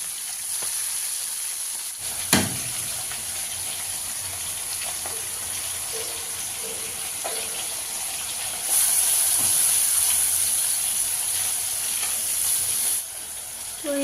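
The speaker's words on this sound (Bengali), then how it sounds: "মশলাটা এমনিতে ভেজে নিলাম" Cumin, coriander, turmeric, chili, onion paste and garlic paste fry in a pot with a little water, a steady sizzle and hiss with occasional clinks, growing louder and brighter midway before easing off.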